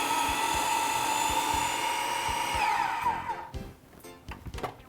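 A food processor with a Red Dot Design Award-winning design runs steadily at close range, a loud high-pitched motor whine with a strong tonal hum that holds for about three seconds, then winds down and stops, followed by faint clicks and handling noise.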